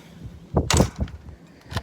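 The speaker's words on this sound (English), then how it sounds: "This door doesn't like to shut when you don't fix the other thing first." An RV door is pushed shut, giving a few close knocks and a sharper thud-and-rattle in the middle, followed by a softer bump near the end.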